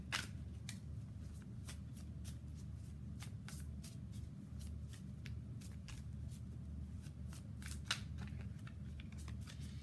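Tarot cards are shuffled by hand at close range, with repeated soft riffling snaps and slides spread across the clip over a low steady background hum, no voices.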